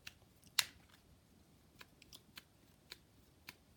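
Oracle cards pulled and snapped from a deck, a few soft crisp flicks and slaps spaced out, one sharper card snap near the start, quiet and close with no talking.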